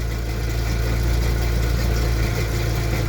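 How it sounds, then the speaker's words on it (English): A car engine idles steadily during a fuel trim and oxygen sensor check for lost power, a loud, even mechanical drone with a low rumble and no change in speed, heard alone without voices. "the engine right now is not running that bad"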